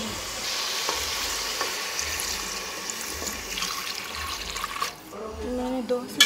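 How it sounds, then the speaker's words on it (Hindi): Chicken fried for haleem sizzles loudly in a pot as water is added, with steady hissing and stirring that is followed near the end by the brief splash of pouring water. "ये हमारे चिकन हमने भून ली है। अब हम इसमें"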